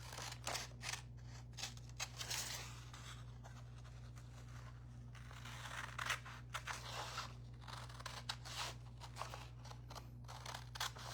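Scissors snip through paper for a mixed media collage in quick, faint, repeated cuts, close by, over a low steady hum with no talking.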